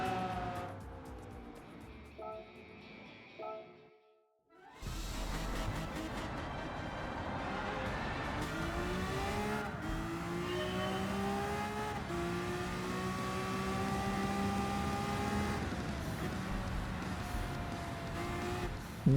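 A Lamborghini race car in Gran Turismo 7 drones steadily at high revs, with rising and falling gear-change pitch sweeps after a brief quiet dip near the start, loud and continuous with no talk.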